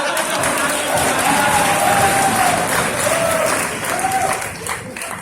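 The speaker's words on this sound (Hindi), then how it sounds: "और इतनी तालियां आपकी बजी है" An audience at IIT claps and cheers loudly through a comedy performance, a dense, steady roar of applause with a few whistles over it, tapering slightly near the end.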